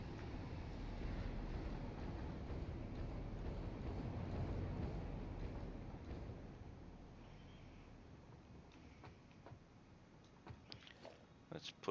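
Model trains rolling across a layout's 4-way crossover intersection with top and bottom trains, a steady low rumble of wheels on track that fades over the first eight seconds, followed by a few sharp clicks and taps close by.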